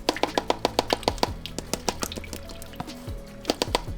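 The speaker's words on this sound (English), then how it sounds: "I don't know if you guys can hear them like hitting the top of the water" Aquarium fish snap at food on the water surface, making a rapid series of sharp little plops and splashes that come in quick bursts and pauses, close and clear, with no talking.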